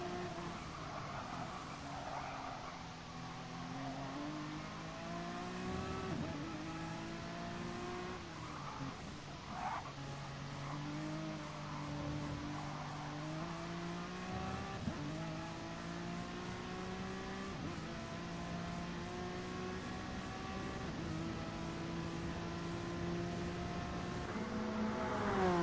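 A Honda NSX GT3 race car in Gran Turismo Sport at Fuji, its engine note steadily rising and dropping through upshifts and downshifts, with other cars droning close by throughout.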